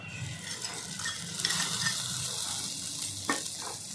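Fried onion sizzling in a pan after garlic and ginger paste is added, with a steady close hiss and a few stirring scrapes throughout.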